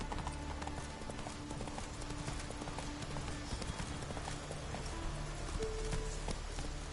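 Hooves of Roach, Geralt's horse in the video game Witcher 3, clip-clop at a steady gallop throughout, carried over a continuous background of game music and ambience.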